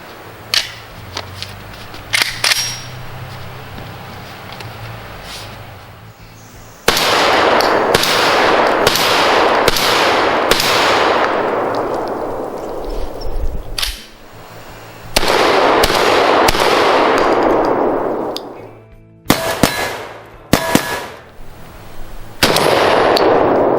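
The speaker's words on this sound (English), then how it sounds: "See if we can't get a couple of 1-ounce slugs on that target down there." A CZ 712 semi-automatic shotgun fires 1-ounce slugs at a 25-yard range target, with loud sharp blasts in quick bursts and lingering echo between groups of shots, no talking.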